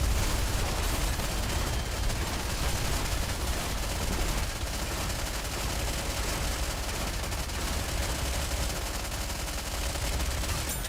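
Dense, continuous video-game gunfire from Nikke rattles on without pause, a fairly quiet, unbroken barrage of rapid shots and blasts with no talk.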